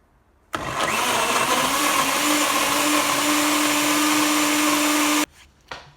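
A kitchen blender whirs at full speed making a smoothie, starting abruptly, holding a loud steady roar for about five seconds, then cutting off sharply, with no speech.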